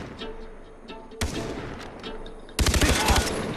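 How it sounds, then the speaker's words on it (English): Mounted machine gun fired in Far Cry 3, heavy bursts of rapid automatic fire with loud overlapping shots over a battle din, with a second, sharper burst near the end. "I'll man the mounted gun!"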